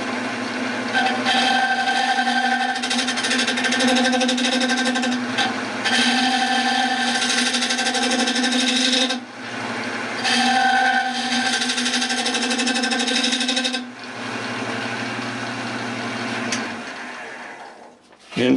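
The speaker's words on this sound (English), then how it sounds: "Now with the David Ellsworth gouge, freshly sharpened, clean up the inside." Wood lathe spinning as a freshly sharpened David Ellsworth gouge cleans up the inside of a turned bowl, a steady humming whir with scraping cuts, briefly dipping a few times before stopping.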